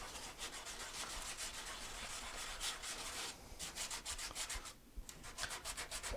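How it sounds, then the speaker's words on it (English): Rhythmic scraping of a sanding block rubbed back and forth over a steel-string guitar's wooden back brace, close and steady, with brief pauses between strokes. "All I'm doing here is taking the sanding block,"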